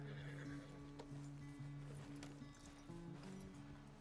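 A horse in the video game Red Dead Redemption 2 whinnies in a rising and falling cry, with a few hoof clops in the background, close and clear, without speech.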